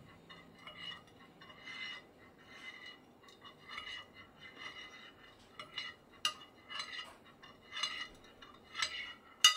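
A spoon stirs soy milk in a bowl while tofu is being made. Soft, steady clinks and light scrapes repeat in a slow rhythm, quiet and close, with no talking.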